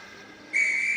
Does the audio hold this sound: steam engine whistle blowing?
yes